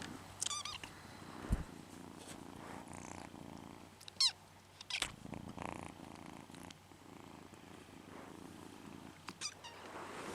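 A young kitten, one of two new kittens living alongside an adult cat at home, makes brief high squeaks and chirps between soft purring and rustling, close by and fairly quiet.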